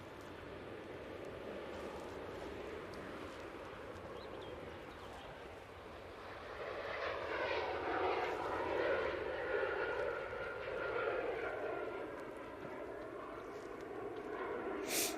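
An Embraer E2 jet departing Manchester Airport rumbles from a distance, its engine roar swelling midway into a louder, broad whine that lingers steadily to the end.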